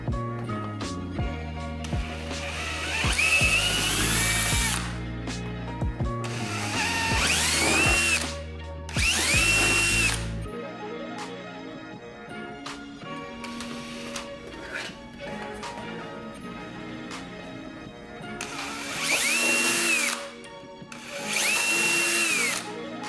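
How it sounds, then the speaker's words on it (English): Power drill boring holes for LEDs in a Halo Master Chief costume, whining in several sustained bursts with quieter pauses between them, close and loud. "I'm gonna start drilling the holes for the LEDs."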